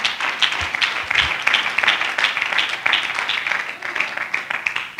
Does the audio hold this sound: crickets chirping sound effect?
no